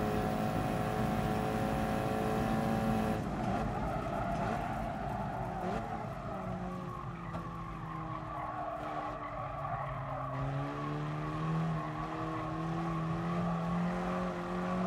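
Race car engines and skidding tires in GT Sport, a continuous loud roar with shifting engine pitch and sustained tire squeal throughout.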